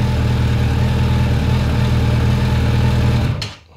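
A cold motorcycle engine that has not been started since the day before runs with a steady low rumble up close, then cuts off and fades into silence at the end.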